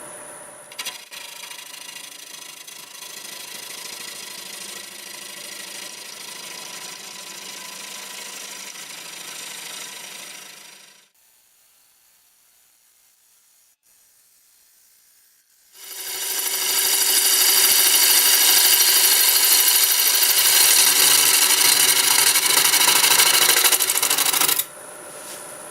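A wood lathe spins spalted walnut at about 800 RPM while a freshly sharpened half-inch bowl gouge cuts it, giving a loud, steady rasping scrape in two long stretches with a quiet gap between them.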